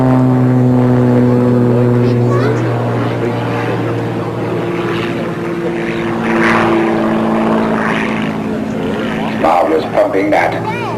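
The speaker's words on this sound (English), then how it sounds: "Look at this way Neil is flying his Cub" A radio-controlled model Cub airplane flies at a 1994 air show at Cranfield, Bedfordshire, its steady buzzing propeller drone holding throughout at moderate distance while people talk over it.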